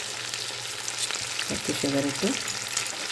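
Soy sauce and sugar are stirred in a hot frying pan, giving a steady hiss of sizzling with a few scraping strokes of the spoon against the pan in the middle, fairly quiet and close.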